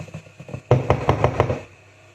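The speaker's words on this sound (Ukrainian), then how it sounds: "Ось так залила, постукала, щоб бульбашки в вийшли." A cake pan filled with chocolate batter is tapped on a surface to knock out bubbles: a run of light knocks, then several louder, evenly spaced thumps, close by with no talking.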